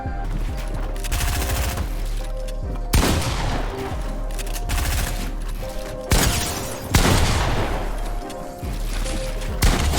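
Rapid gunfire in Fortnite, played on controller, sounds as loud, close bursts of shots layered over one another, with heavier blasts punching through around the third, sixth and seventh seconds.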